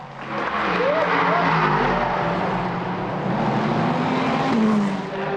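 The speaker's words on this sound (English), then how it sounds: "Hur trying to use the shorter run through Curva Grande to squeeze in front." GT3 race cars in a Le Mans Cup race at Monza roar past in a steady, loud engine drone with rising and falling pitch sweeps as cars shift and pass, under faint commentary.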